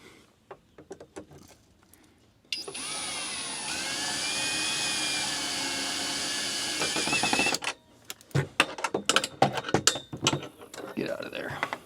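A socket wrench ratchets bolts on metal stair stringers for composite deck boards, giving close, sharp metallic clicks before and after a long, steady whirring mechanical stretch.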